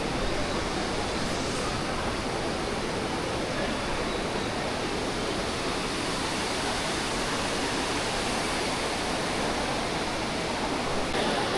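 Yamuna river water rushes steadily at Yamunotri temple near Vishnu Kund in the Himalayas, a loud, unbroken broadband roar of flowing mountain stream with no voices.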